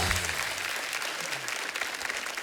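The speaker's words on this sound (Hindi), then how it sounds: "एक बार जोरदार तालियां अरे हमारे मेहमानों के लिए।" Studio audience of a Hindi comedy talk show claps loudly for its guests, a dense continuous burst of applause with brief voices near the start.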